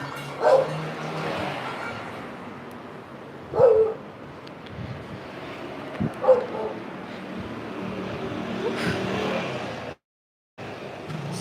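Dogs in Old Jaffa, Tel Aviv bark a few times in short, separate outbursts spread apart, over a steady street background, moderately close and not very loud.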